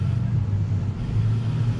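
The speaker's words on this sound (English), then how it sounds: "Now I got an ear for my truck, and I can hear it coming." Low, steady engine rumble of a vehicle driving nearby, a continuous droning hum without voices.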